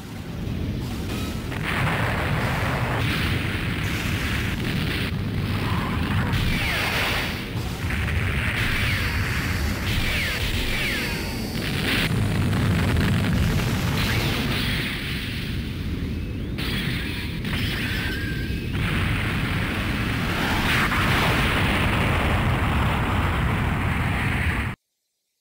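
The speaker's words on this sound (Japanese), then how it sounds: "アクシズは爆破された。" The Axis asteroid blowing apart in the Gundam Char's Counterattack video game on PlayStation, a loud sustained rumbling roar of explosions that rolls on for about twenty-five seconds with booming surges.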